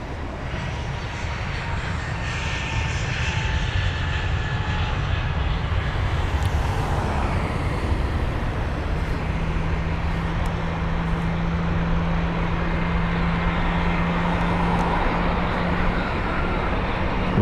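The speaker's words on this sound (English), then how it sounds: "But off goes a BA320neo." British Airways Airbus A320neo taking off from Heathrow on flight BA780 to Stockholm, a loud continuous engine roar held steady throughout, with a low droning tone building midway and no speech.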